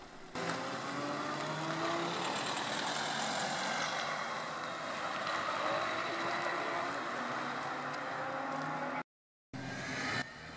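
An Audi RS3 leaves the Magny-Cours circuit, its engine a sustained, moderately distant roar with shifting pitch as it pulls away, briefly cut out near the end.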